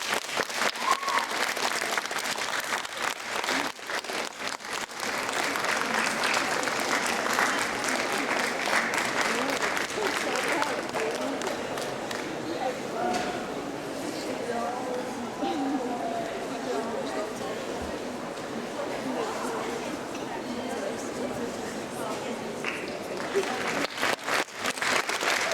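A large audience claps at a Latvian book festival gathering, steady dense applause running throughout with a few sharper claps near the start and end, some faint crowd murmur beneath.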